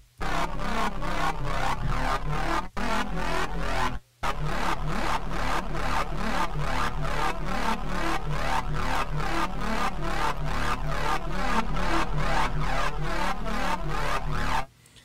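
A loud, sustained synth tone with a sweeping, whooshing flanger shimmer, playing continuously apart from two brief dropouts.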